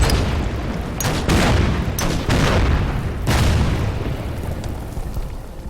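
Artillery fire in the Order of Battle: Winter War strategy game, a series of loud booming blasts and rumbling explosions overlapping in bursts, fairly close and continuous.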